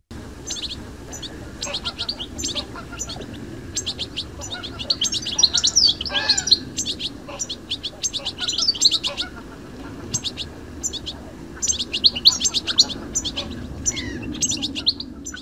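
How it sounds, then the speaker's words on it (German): European goldfinch calls and song: rapid bright twittering phrases and trills repeating throughout, fairly close and clear over a low steady background hum. "Widmen wir uns jetzt dem Ruf und dem Gesang des Stieglitzes."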